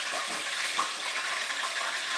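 Catfish frying in bubbling hot oil, a constant bright sizzling hiss at moderate level, steady throughout with no talk.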